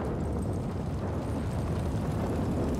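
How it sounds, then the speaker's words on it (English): Fire roaring on a rooftop in the video game Generation Zero, driven by wind: a steady, dense low rumble with crackling texture that holds at an even loudness throughout, with no talk. "The sound of that, with the wind blowing the fire,"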